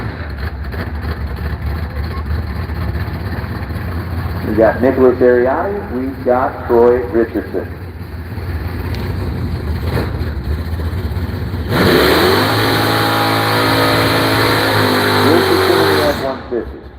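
Drag racing trucks, including a Ford F-150 and an old Dodge Dakota, rev hard and launch down the strip, loud and roaring, with an announcer talking over the engines throughout.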